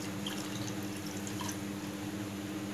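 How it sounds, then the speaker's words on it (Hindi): About two glasses of water are poured into a kilogram of sugar in a pan for syrup, a soft continuous splashing trickle with faint drips, steady and alone. "इसमें हम 2 ग्लास जितना पानी डालेंगे"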